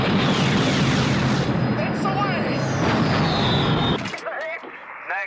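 A bouncing bomb blasts against a dam wall in a wartime film scene, a loud sustained roar of explosion and rushing debris that drops off abruptly near the end, leaving quieter rumbling and brief voices.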